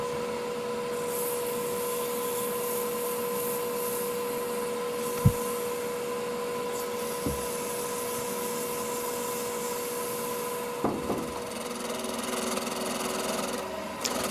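Continuous machine sanding of wood drones on with a steady whine and rough abrasive hiss, broken by a couple of sharp knocks, with no talking.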